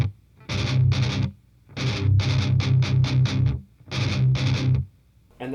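Heavily distorted electric guitar chugging out the breakdown rhythm of a song in three short bursts, each a quick run of palm-muted hits separated by brief silences, loud and close, with no voices.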